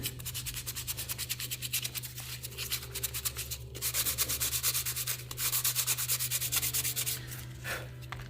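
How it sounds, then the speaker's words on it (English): Scroll saw cutting wood during a carving session, a fast continuous rasping buzz from the reciprocating blade that swells and eases as the cut proceeds, with a low steady motor hum beneath, fairly faint. "he's gone back on the scroll saw, as you can hear"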